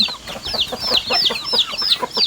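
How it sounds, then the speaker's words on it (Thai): Chickens cluck in a coop on a Thai farm in the morning, a close, busy run of repeated squawking calls overlapping in quick rhythm with no talking. "ไก่เยอะมากเลยค่ะ อันนี้เป็นเล้าไก่นะคะ"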